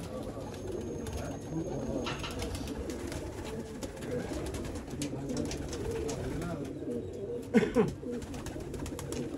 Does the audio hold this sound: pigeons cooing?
yes